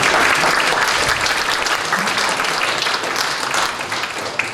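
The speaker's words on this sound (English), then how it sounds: "So big round of applause for that." Dense, loud audience applause at a convention's opening ceremonies, a continuous roar of many hands clapping that fades slightly toward the end.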